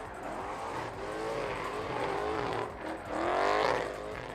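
A drift car fitted with exhausts over 100 mm wide slides sideways at a Lithuanian drift championship stage in Siauliai, its engine wailing and sweeping in pitch, then surging louder in a final hard, close pass.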